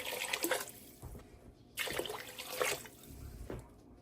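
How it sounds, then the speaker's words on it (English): Six cups of water pour into a pot of washed potatoes in a kitchen, quiet splashing and trickling in two or three bursts with brief pauses between. "Going in with 6 cups of water."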